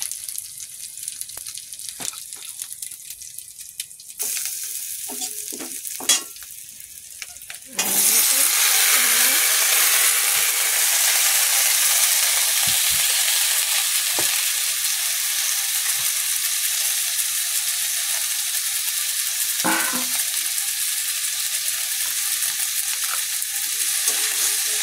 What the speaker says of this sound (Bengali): ছোট্ট একটু 5 ফোড়ন দাও।